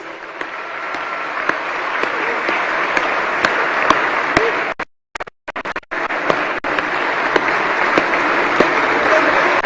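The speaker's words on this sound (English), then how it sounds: "the program cannot end without us all giving our president a big round of applause" Crowd at a national honours and awards conferment ceremony gives the president a sustained round of applause, dense clapping that cuts out abruptly for about a second mid-clip, then resumes just as strongly.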